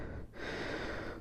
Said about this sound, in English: Sorry if I'm heavy breathing